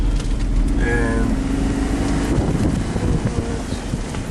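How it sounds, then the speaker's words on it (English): A car approaches along a road on the way to Constitution Drive, a low engine and tire rumble swelling beneath steady wind buffeting on the microphone, with a faint murmur of voices. "we got a car coming up"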